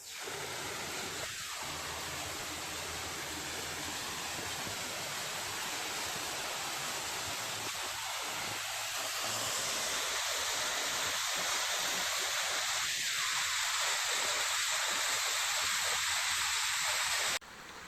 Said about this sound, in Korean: 여기가 왕방 폭포입니다